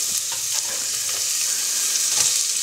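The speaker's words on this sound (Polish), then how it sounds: "Więc wrzucam na oliwę cebulkę." Onion frying in olive oil makes a close, continuous sizzle, with light stirring scrapes and clicks scattered across the short stretch and no voices.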